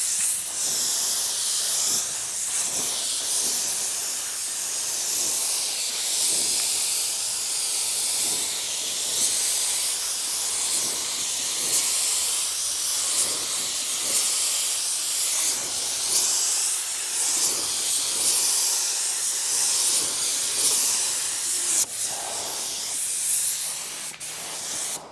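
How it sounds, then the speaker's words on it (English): Continuous hiss of an automotive paint spray gun applying coats to a car body, steady and loud for the whole stretch with only slight swells as air pressure and fluid flow shift; no talking. "you can adjust how much overspray you have and how much air pressure you're using by lowering your fluid volume and your air pressure accordingly"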